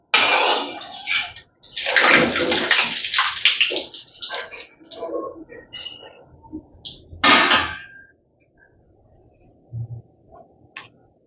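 Bhatura dough frying in hot oil for chole bhature, a loud bubbling sizzle that swells up as the dough goes in, dies back, then flares again in a second burst before fading to quiet crackles.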